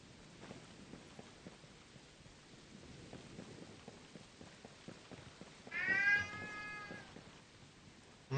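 A cat meows in a video game, a short wavering cry about two-thirds through, rising clearly above a steady bed of rain-like ambience with faint scattered ticks.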